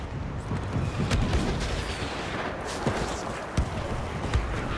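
Grenade explosions in a Star Wars Battlefront Walker Assault battle on the forest moon of Endor, dull booms and thuds rumbling over a dense, continuous roar of distant combat.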